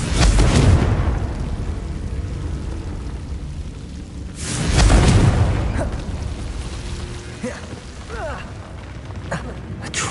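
Blasting Confringo spell explosions in Hogwarts Legacy, fought against a troll, land as heavy broadband booms in three bursts spread across the stretch, over a continuous rumbling battle bed.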